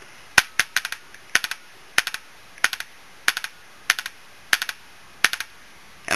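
Tippmann X7 paintball marker with an E-Grip firing in turbo mode, sharp snapping shots in quick bursts of two or three repeating steadily, crisp and close in a quiet setting.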